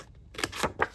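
A few quick, close snips of scissors slicing through a stiff notepad cover, sounding in a short rhythmic burst.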